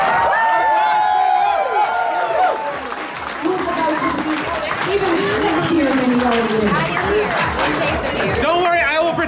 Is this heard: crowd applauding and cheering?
yes